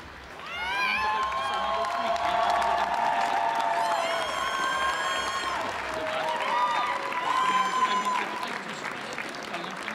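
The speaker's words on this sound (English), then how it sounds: "A big round of applause to all candidates, to all finalists." Applause from the audience at the Miss Wheelchair World 2017 final gala in Warsaw, honouring the finalists: dense, sustained clapping with cheers and whoops, and a voice talking over the crowd.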